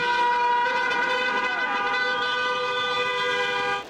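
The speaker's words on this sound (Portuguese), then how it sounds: "Motoristas que passavam pela Avenida Washington Luiz fizeram um buzinaço." Car horns blare loudly and continuously in a protest on Avenida Washington Luiz, several overlapping honks sustained for a few seconds, close by, with no talking.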